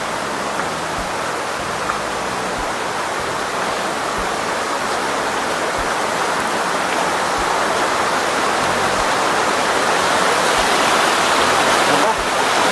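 Water rushes steadily down a stream or small waterfall on farmland in Majayjay, Laguna, a loud continuous hiss that fills the whole stretch, with people's voices faint underneath.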